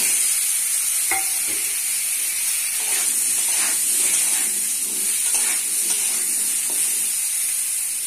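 Potatoes sizzle steadily in a hot pan with salt and a little turmeric for a chicken-and-potato curry, the frying hiss constant and close, with soft scraping stirs throughout and no talking.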